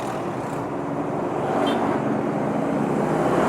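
Steady roadway traffic on a busy road in Gunungpati, Semarang, with a truck passing; a continuous broad engine and tyre rumble that swells slightly louder toward the end, no talking.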